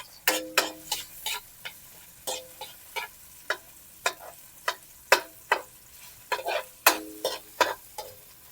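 Tomatoes cooking in hot oil in a pan, the sizzle running beneath a quick run of sharp, close clicks and scrapes as a utensil stirs them, no voices.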